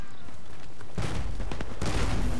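P226 pistol fire in Battlefield Play4Free, a few sharp loud shots in quick succession after a quieter opening moment, with a final louder crack near the end.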